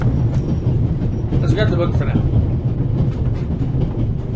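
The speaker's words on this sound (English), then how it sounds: "This train began in Paris and ends in Istanbul as usual." Inside a video game, the Orient Express rumbles along its Paris-to-Istanbul run with a steady, loud low roll and faint rattling. Someone talks briefly over the train noise.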